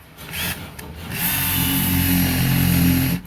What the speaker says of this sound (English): I have to re-drill it though.